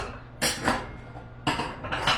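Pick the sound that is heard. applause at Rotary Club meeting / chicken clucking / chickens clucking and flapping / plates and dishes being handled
plates and dishes being handled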